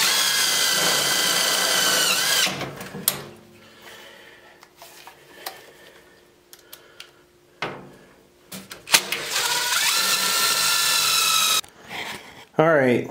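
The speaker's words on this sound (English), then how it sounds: "I'm just going to go ahead and put the screws in this piece of pipe" A power drill drives screws into a stove pipe for a wood burner, whining in two long bursts close up, with metallic clanks and someone talking between them.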